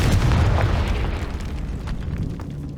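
A Confringo spell in the Hogwarts Legacy video game sets off a loud, booming explosion that rumbles and slowly fades.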